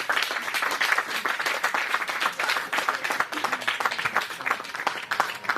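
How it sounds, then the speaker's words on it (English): Steady applause from a modest group of wedding reception guests, a dense patter of claps continuing evenly from start to finish. "So, I think a round of applause is in order for the beautiful bride, Tanya, and my brother, Nicholas."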